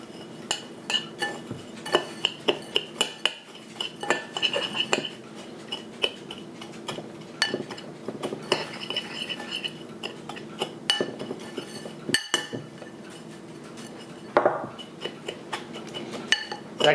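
A spoon clinks and scrapes irregularly against a bowl while crabcake ingredients (crabmeat, breadcrumbs and baking powder) are stirred together, with close, bright taps and light knocks throughout.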